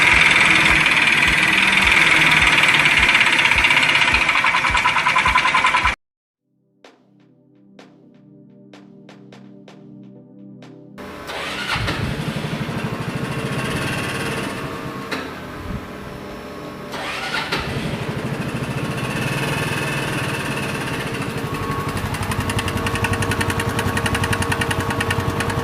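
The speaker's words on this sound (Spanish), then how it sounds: "Es raro este sonido porque generalmente un golpe de biela suena a, digamos, a todos los regímenes de revoluciones." A car engine with a connecting rod knock is cranked and started, then runs steadily at idle with a loud, continuous mechanical rumble and faint knocking, recorded up close with no talking.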